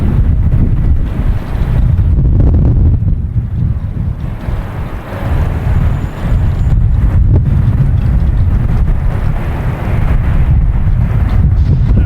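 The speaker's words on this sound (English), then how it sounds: "We have wind." Strong wind buffets the microphone outdoors at Boston Logan Airport, a loud continuous low rumble with gusty swells and brief dips, no voices heard.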